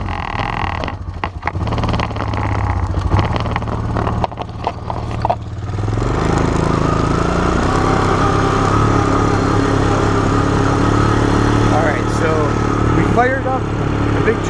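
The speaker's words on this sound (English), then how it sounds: "We fired up the John Deere tractor" A John Deere tractor engine starts up and settles into a steady, close mid-pitched idle rumble, preceded by a few seconds of scattered clatter and handling noises, with occasional voices in the background.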